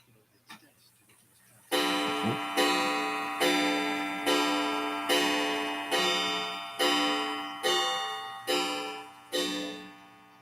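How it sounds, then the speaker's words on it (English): Clock chiming ten o'clock indoors, ten evenly spaced ringing strikes, each decaying before the next, loud and clear over a quiet room after a brief soft sound at the start. "it's 10 o'clock in your house and you heard them chimes"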